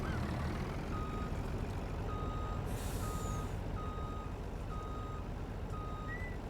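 Steady, evenly spaced reversing beeps sound from a truck backing a log trailer in Farming Simulator 19, over a constant low engine drone, with a brief hiss of air partway through.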